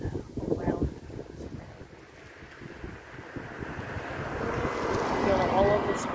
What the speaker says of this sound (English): Feel all of this wind around me today.